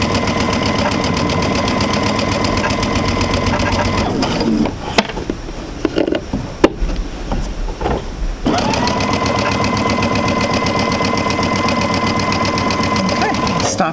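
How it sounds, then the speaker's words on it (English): A sewing machine stitches a quarter-inch seam in a steady, fast mechanical whir. It runs loud and continuous, breaks off briefly mid-way with small clicks and handling noises, then resumes. "Go ahead and sew that through."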